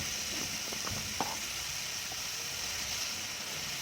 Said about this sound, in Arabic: هنا في طاسة هننزل باللحمة بتاعتنا. هنا لقيت اللحمة بتاعتي دهنتها بسيطة، فنزلت معاها بمعلقة من الزيت عشان تساعدها ان هي تتشوح